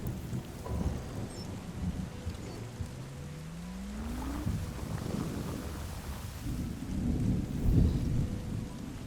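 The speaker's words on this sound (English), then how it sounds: "Because it's raining?" Steady rain with rolling thunder rumbles in the video game Terra Nil, a continuous wash of rainfall with a low rising tone and deeper swells of thunder toward the end.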